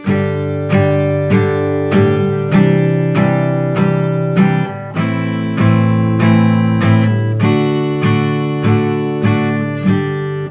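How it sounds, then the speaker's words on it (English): Strummed guitar chords fall one per foot tap in a steady, even pulse, about a dozen loud, close strums each ringing until the next. "maybe you can play a chord for each tap of the foot."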